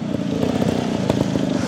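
A touring motorcycle rides over gravel, its engine a steady dense rumble with crackling grit throughout, loud and close, with no voices.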